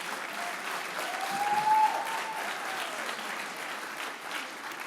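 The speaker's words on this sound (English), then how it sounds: "let's have another round of applause for Lynn" Audience applause at a health awards ceremony, a dense continuous wash of clapping from a large crowd that swells briefly then holds steady, with a faint tone over it.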